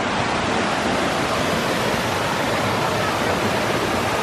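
Hieu Waterfall in the dry season, flowing beneath a wooden bridge, gives a steady, loud, broadband rush of falling water that holds unbroken throughout, with no voices over it.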